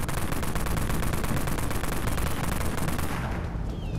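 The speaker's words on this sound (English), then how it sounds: "How about I shoot off the raid cannon one more time, and let me get this aggro going." Raid cannon in the Dead Frontier video game fired repeatedly at zombies, a loud, continuous burst of rapid booming shots that holds steady for several seconds, then thins slightly at the end.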